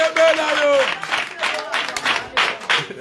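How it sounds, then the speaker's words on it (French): An audience at a foundation gathering claps in a few bursts that rise and fade, with voices talking and calling out over and between them. "On nous applaudit ça?"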